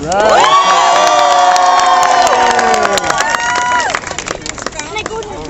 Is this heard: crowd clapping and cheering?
yes